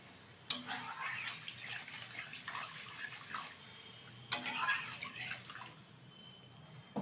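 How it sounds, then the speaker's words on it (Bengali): Water poured into a pan of Bengali bhetki fish curry with yam, heard as a soft splashing trickle with two sharper pours close by. "এখন দিয়ে দেবো এর মধ্যে পরিমাণ মতো জল"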